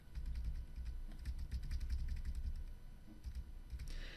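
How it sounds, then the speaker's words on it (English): Rapid, fairly quiet tapping of arrow keys on a computer keyboard, a steady run of soft clicks over a low background hum. "I'm going to use the up and down arrow keys on my keyboard to change the corner radius as I drag."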